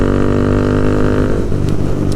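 A Honda Grom motorcycle engine drones steadily and loud, a continuous low hum with road noise throughout.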